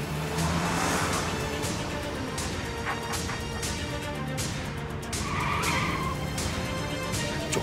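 A red car speeds away during a chase, tyres skidding and squealing in repeated sharp bursts amid roaring engine noise, loud and close, with no talking.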